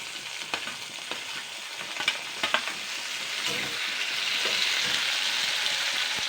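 Onion and chopped tomato fry in a pan with a continuous soft sizzle, broken by scattered scraping clicks as a spoon stirs the mixture, the frying growing slightly louder toward the end.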